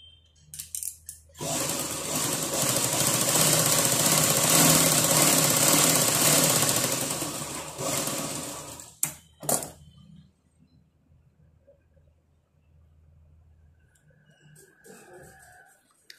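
A sewing machine stitches a puffed blouse sleeve in a steady whirring run for about seven seconds, then stops with a few short bursts and quiet handling noises afterward.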